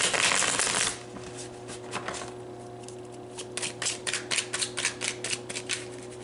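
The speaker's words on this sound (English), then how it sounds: "I'm going to give these a good shuffle" Deck of tarot cards being shuffled by hand, a burst of fluttering riffle, then a pause and a rapid series of crisp card slaps close by, with no talk.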